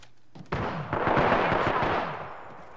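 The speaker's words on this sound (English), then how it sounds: "Opening fire." Burst of rapid gunfire in Apex Legends, a sharp onset followed by a dense, sustained volley of shots at close range for a couple of seconds, with no talk over it.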